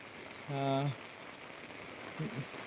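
Steady rain hisses over an open village bus stand in Velchala, a dense even wash of falling water heard throughout, with a brief tonal voice sound and a couple of short low murmurs rising above it.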